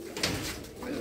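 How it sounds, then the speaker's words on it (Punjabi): Fancy pigeons in a Punjabi pigeon keeper's collection give a soft, brief coo, faint and close, with quiet room noise around it. "ਆਹ ਡੱਬੀ ਕਬੂਤਰੀ ਆ ਅਤੇ ਖੱਟੀਆਂ ਦਾ ਕਬੂਤਰ ਆ, ਬਹੁਤ ਸ਼ਾਨਦਾਰ ਕਬੂਤਰ ਜੀ"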